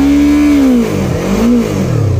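Close and loud, a Yamaha R3 motorcycle engine is blipped twice, the pitch climbing, dropping and rising again in quick succession.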